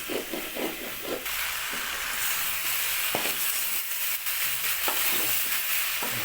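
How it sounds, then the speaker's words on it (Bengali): Spice paste stir-fried in a pan with a little water, for a capsicum, radish, potato and aubergine dish, giving a steady close sizzle and hiss with repeated scraping and stirring strokes throughout. "ভালো করে কষে নেওয়া হচ্ছে"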